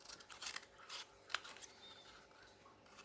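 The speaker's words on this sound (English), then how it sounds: "so I could trim some of that off" Small, faint snips and scrapes come from trimming the uneven bottom of a cat sculpture, a few quiet cutting sounds close by with one sharper click in the middle.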